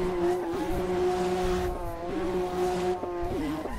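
A Porsche GT2 RS MR spins on a Portuguese race track, its engine revving in wavering tones while the tires squeal and skid through the rotation, loud and close with no voices.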